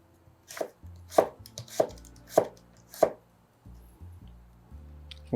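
Knife chopping vegetables lengthwise on a cutting board for a summer Japanese soba noodle salad: five crisp, evenly spaced cuts close up, then quieter handling noise, no talking.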